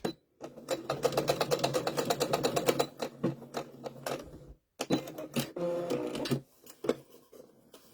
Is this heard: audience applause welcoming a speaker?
no